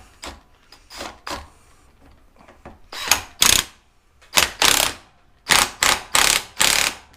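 A ratchet turns to tighten a fitting on a truck's brake relay valve, giving close, bursts of clicking strokes in short runs with brief pauses between them, loud and alone without talk.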